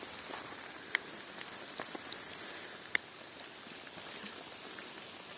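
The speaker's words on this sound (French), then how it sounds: "Vivement que la pluie soit finie" Rain patters on a hiking trail in July, a quiet, steady hiss of drops with a couple of sharper nearby drips standing out, no voices.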